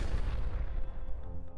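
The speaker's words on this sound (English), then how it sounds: "You slam your swords down and there's an explosion." A single heavy explosion in a video game, triggered by slamming swords down, a deep booming blast that rumbles and fades over about a second and a half.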